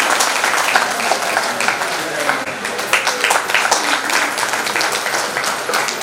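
Audience applause at a Vasavi Vanitha gathering in Amaravathi, a steady wash of many hands clapping close by for about six seconds with no voice over it.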